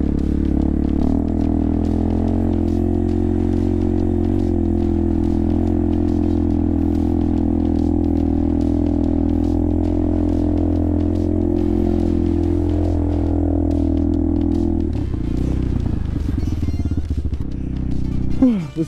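A Crossmax 300 Rally motorcycle ridden off-road, its single engine droning steadily and loudly with small throttle wavers, plus gravel clatter and wind buffeting before the note drops and the ride changes near the end.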